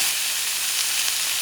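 Sausages frying with aromatics on a cast iron griddle, a loud, close, continuous sizzle and hiss that holds evenly without pause.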